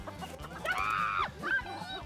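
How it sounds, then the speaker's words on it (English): Chickens in their new coop give a few soft, nasal clucks and squawks in quick succession, at moderate distance and fairly quiet. "And then the chickens are put in their new coop, and Kate stays as calm as usual."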